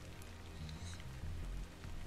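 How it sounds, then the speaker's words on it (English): Rain falling in a soulslike video game demo, a soft, steady hiss that runs through the whole stretch beneath low, droning in-game music. "This must be Earth's rain."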